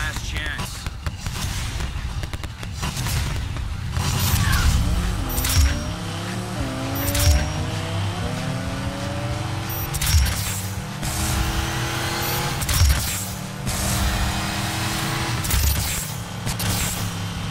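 Cars racing and overtaking in the video game Need for Speed Payback: loud revving engines rising through gear shifts, tire squeals, and brief impact thuds, continuous and close, with someone talking over the action.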